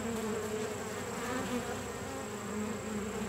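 Steady, dense buzzing of many honeybees up close, a continuous drone with no voices.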